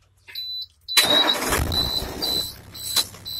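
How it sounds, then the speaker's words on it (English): A truck's engine cranks and fires up in the cab during an air brake and cab inspection, a short warning tone first, then a loud catch settling into a steady idle close by, with beeping alarms continuing. "I make sure it's in neutral, and I start the truck."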